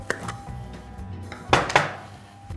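A metal spoon clinks and scrapes against a jar while scooping chocolate spread for a Nutella dessert pizza, with a few sharp close taps and a louder double clatter near the end.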